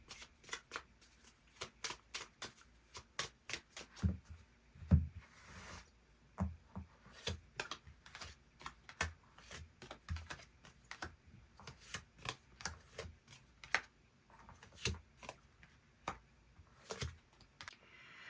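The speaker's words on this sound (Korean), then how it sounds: "추가 카드 뽑아보도록 하겠습니다" Tarot cards shuffled and drawn by hand in a steady run of crisp, close, rapid riffles and flicks, fairly quiet, with no talking over them.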